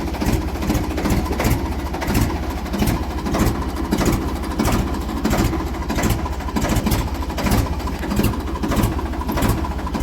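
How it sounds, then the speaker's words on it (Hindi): Ford 3600 tractor engine idling, a steady low rhythmic diesel chug with loud, even pulsing throughout, close by and without talk. "दोस्तों पूरे सिलो पे आप आवाज़ सुन सकते हैं फोर्ड की।"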